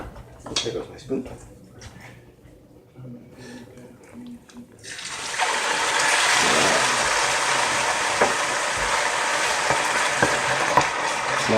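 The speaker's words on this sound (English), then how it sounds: "Now let's get to frying our chicken." After some quiet clatter, a loud, steady sizzle of chicken frying in a hot pan takes over and continues to the end.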